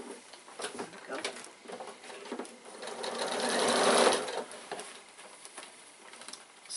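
A sewing machine stitching the side seam of a bag, running in short bursts that swell into one longer continuous stitching run, close by.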